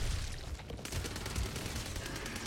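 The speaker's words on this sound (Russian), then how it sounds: "Кто-то стреляет, кто-то из наших стреляет" Rapid bursts of gunfire from the video game Back 4 Blood, rattling in quick succession like automatic weapons, fairly continuous and at moderate volume.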